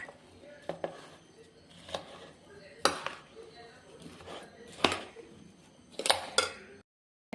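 Spoon clinks and scrapes as chili powder is stirred into mango pickle in a bowl, sharp irregular knocks every second or so, close and fairly loud, no talk.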